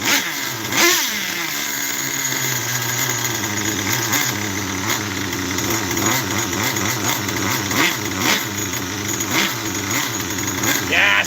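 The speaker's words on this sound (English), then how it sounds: "Oh, let's turn on the truck." A nitro RC truck engine starts and settles into a buzzing, uneven idle, with small revs rising and falling throughout, loud and close, while people talk nearby.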